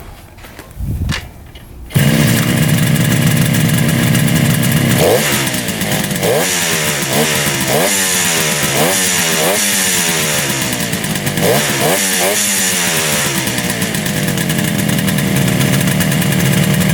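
A 1966 motorcycle engine kicks over and catches in freezing weather at about minus ten degrees Fahrenheit, then runs loud and close with a steady idle broken by repeated throttle blips and revving.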